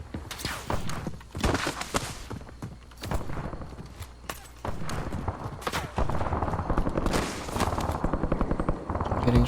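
Gunfire in the video game Warzone, bursts of sharp shots and rattling automatic fire mixed with footsteps and rumbling engine noise, loud and repeated across the whole stretch.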